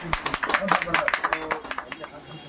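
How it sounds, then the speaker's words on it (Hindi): Sharp, separate claps ring out at a news team's ceremony honoring religious leaders, a fairly quick run of distinct hits that thins toward the end, with speech going on beneath. "मैं एक बार जोरदार तालियां चाहूँगा चीफ एडिटर साहब"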